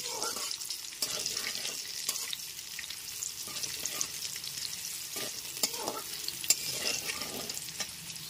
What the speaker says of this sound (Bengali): আর গ্যাসের ফ্লেমটা মিডিয়ামে রেখে আলুগুলোকে ভেজে নেব